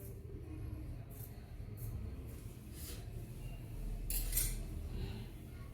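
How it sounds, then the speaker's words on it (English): Scissors cut through a long-sleeved men's shirt in a few faint, short snips and a brief burst of crisp fabric shearing near the end, over a low steady background hum. "So I'm going to cut it following that line."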